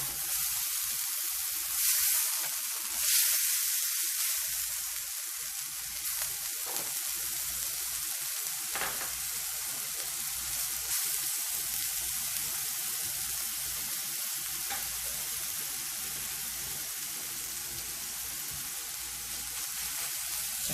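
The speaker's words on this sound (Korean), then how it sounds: "너무 높은 불에 굽지 마시고 뒤집어가면서 익혀주시면 되겠습니다." Hwayangjeok beef skewers pan-fry over moderate heat and are turned now and then, giving a continuous close sizzle with a few faint scrapes and clicks.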